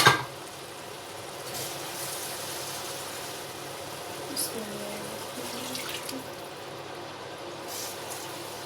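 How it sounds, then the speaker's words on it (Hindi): Water runs and splashes steadily into a cooking pot of fried chana dal, a soft continuous pour with faint clinks in a quiet kitchen. "अब मैं 1 कप पानी का डालूंगी।"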